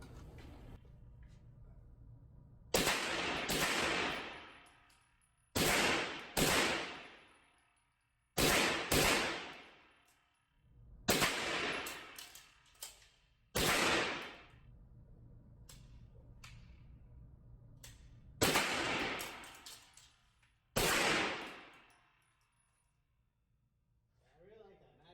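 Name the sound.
test firing a CROM USA gun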